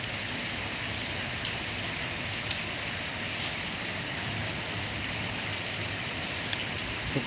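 A torrential monsoon downpour hisses in a constant, broad wash. Faint individual drips and splashes stand out now and then.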